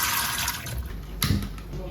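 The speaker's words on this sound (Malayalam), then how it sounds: "അത് നല്ല ക്ലിയർ ആകുന്നതോടെ വരെ നമ്മൾ കഴുകണം." Rice being washed for chicken biryani produces close splashing and sloshing water, with a short burst of pouring partway through and a voice talking over it.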